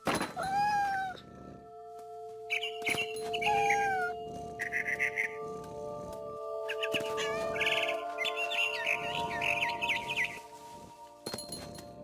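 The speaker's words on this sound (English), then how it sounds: "Then I heard chirping outside my window." High bird chirps and tweets ring out in short bursts over sustained synthetic tones, mixed with cat-like meows, all with a bright electronic game quality, from the video game What Remains of Edith Finch.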